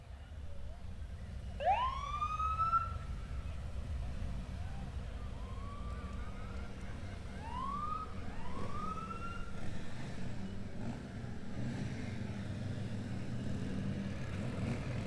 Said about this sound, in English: we are getting underway right now with the motorcycle unit for the Gainesville Police Department